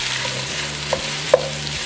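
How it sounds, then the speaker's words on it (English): Onion and celery sautéing gently in a pan for pea and ham soup, a steady soft sizzle with a couple of brief stirring clinks, close and fairly loud. "we want to toss in the onion and the celery, and you want to saute this off now"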